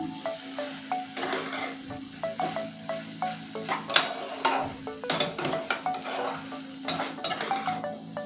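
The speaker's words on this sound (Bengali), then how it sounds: "আর একটু ভাজা ভাজা করে নেব এখনো হয়নি" Kalmi shak (water spinach) frying in a pan, a low sizzle under repeated metal spatula scrapes and clinks against the pan in an uneven rhythm, close and clear.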